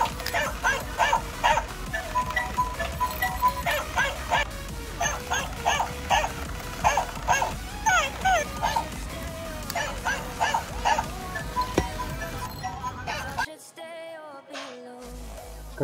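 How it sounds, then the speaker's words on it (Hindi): A dog barking at a market in Muscat, Oman: a rapid run of sharp, evenly repeated barks and yips, close and fairly loud, with busy background noise before the sound cuts off abruptly near the end. "बहुत प्यारा सा कुत्ता मिला आप देख सकते हैं।"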